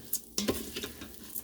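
Rice sautéing and toasting in a pot, with a steady soft sizzle and a few scraping stirs, close and alone.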